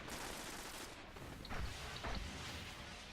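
Enemy gunfire in the video game Destiny on Mars, a faint continuous barrage of distant shots with a couple of heavier thuds rising briefly above the steady rattle.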